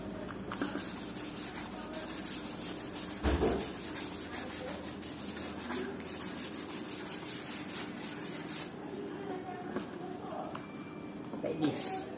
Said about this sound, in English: during the process using the steel brush, like this